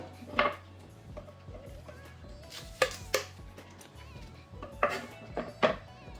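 A knife cuts green onions on a board in a home kitchen, with sparse, irregular sharp chops and clacks, several in quick pairs, sounding close against a quiet background.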